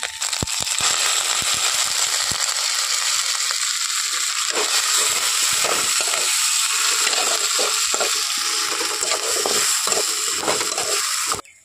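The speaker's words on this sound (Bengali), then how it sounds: "তো হালকা আঁচে খুব সুন্দর করে মশলাগুলোকে কষিয়ে নিতে হবে" Spices with onion and green chilli paste sauté over low heat in a pan for a gondhoraj lemon egg curry. A steady, close hiss carries crackling pops throughout, then stops abruptly at the end.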